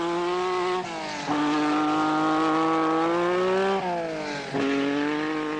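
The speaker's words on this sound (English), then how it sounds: "Lancia Stratos away." A Lancia Stratos rally car drives away during the 1979 RAC Rally, its engine revving hard in sustained loud pulls, with dips between them as the car shifts gears and accelerates off.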